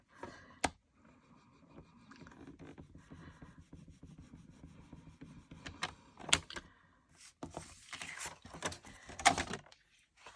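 Card stock being cut along a cut line for a step fold card, giving a steady scraping, rasping glide with several sharp clicks and knocks near the end, close and fairly quiet with no talking.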